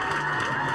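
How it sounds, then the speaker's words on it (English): A crowd at a political resignation event applauds steadily, a dense wash of clapping mixed with cheers that carries on without a break through the short moment. "Yes, the clapping."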